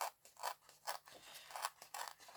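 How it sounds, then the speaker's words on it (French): Decorative paper torn by hand in several short, crisp ripping bursts, about six tears in quick irregular succession, close and fairly quiet with no talk. "je déchire le papier"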